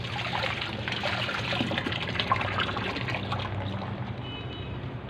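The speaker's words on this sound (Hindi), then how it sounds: "इसको भी आप खुले पानी से वॉश कर लें।" Keyboard parts are rinsed under an open tap, producing a continuous splashing trickle of running water, steady and close, with the stream breaking against plastic pieces and no speech over it.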